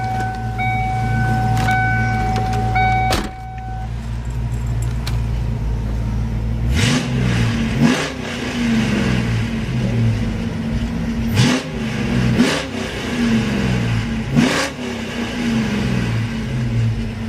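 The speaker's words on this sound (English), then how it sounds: "Absolutely incredible engine note." A 1995 Ford Mustang GT 5.0 V8 engine idles with a deep burble, then revs hard several times in sharp, loud bursts that rise and fall back.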